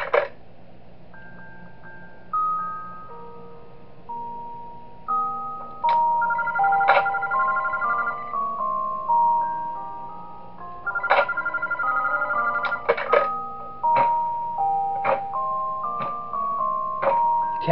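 Telephone in the video game Those Nights at Wario's 3 playing a looping electronic melody of bright, tonal beeps, clear and fairly loud, with short pauses between phrases and no talk.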